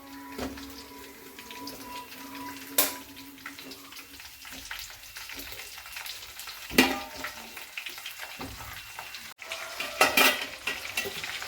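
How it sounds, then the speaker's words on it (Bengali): Pieces of mango fry on a low flame for pickle, giving a steady, soft sizzle under occasional clinks and scrapes of a utensil stirring in the pan. "এবার আমগুলোকে ভাজতে হবে।"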